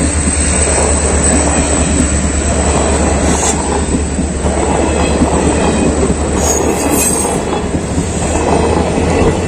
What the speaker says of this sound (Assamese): মানে ট্ৰেইন আহিছে। তো ট্ৰেইন আহিছে ইফালে